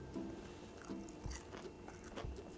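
Someone bites into crispy Thai coconut rice pancakes, kanom krok, with a few soft crunchy bites and chewing, close but faint.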